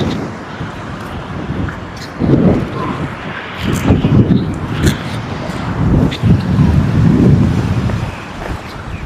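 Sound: strong wind at a Rayong beach

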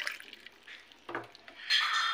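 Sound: water poured in for strawberry juice

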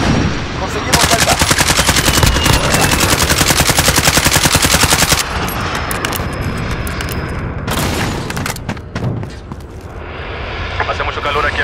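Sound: CR-56 AMAX assault rifle gunfire in a video game

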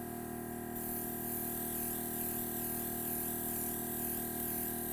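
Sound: spraying food colour onto a cake

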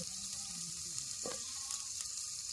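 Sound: onion frying in a pan

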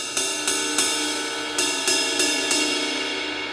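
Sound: ride cymbal played on top

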